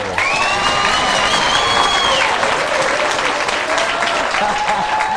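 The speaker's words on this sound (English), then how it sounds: "How about a big round of applause for Jeff Dye?" Studio audience applause and cheering on a game show as comedian Jeff Dye is introduced, a loud, full burst of clapping with a few whoops and tonal accents riding over it.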